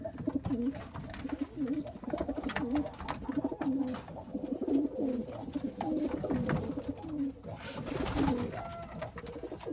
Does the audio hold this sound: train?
no